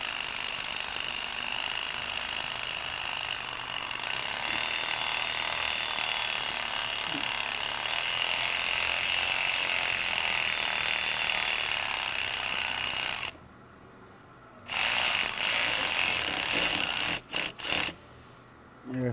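A ratchet tightens a hose clamp on a Polaris boost intake manifold, giving steady close mechanical clicking for about thirteen seconds, then a brief pause and a few short bursts of clicks.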